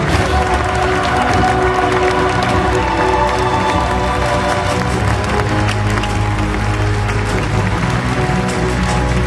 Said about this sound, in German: Natürlich begleitet durch einen tosenden Applaus von Ihnen.